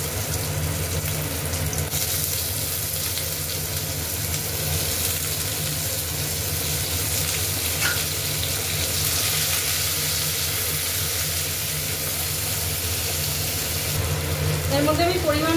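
Sliced onions go into hot oil with fried tempering spices for a spicy duck egg and potato curry, giving a loud, continuous sizzle with a faint clatter near the end.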